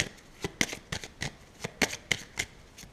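A deck of cards is handled and shuffled close by, giving a series of about ten crisp riffling bursts with short pauses between them and no talking.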